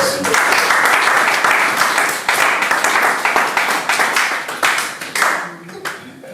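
A church congregation claps and cheers in a loud, sustained burst of applause that sweeps through the room and then begins to thin toward the end.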